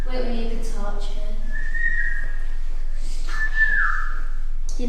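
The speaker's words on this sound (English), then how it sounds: "You know it's bad luck to whistle indoors." A person whistles indoors in an old workhouse museum, a few short tuneful notes followed by longer sliding pitches, close and clear, with faint background noise between phrases.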